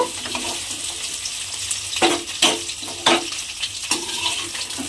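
Fried potatoes for a cauliflower dum sizzle steadily in hot oil, with a few sharper scraping stir strokes standing out near the end, close and moderately loud with no voices.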